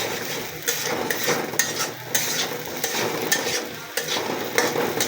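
Eggs fry in a pan for special noodles while a utensil stirs and scrapes repeatedly, an uneven sizzle rising and falling with clinks of metal against the pan.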